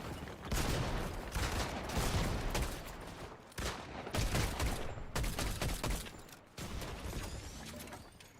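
Darkstar gun firing in Fortnite, loud sustained bursts of rapid automatic fire broken by brief pauses, with no talking.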